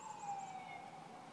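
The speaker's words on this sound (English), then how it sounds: "It's an ambulance." An ambulance siren wails in the distance, a faint wavering tone that drifts slowly downward over a quiet outdoor background.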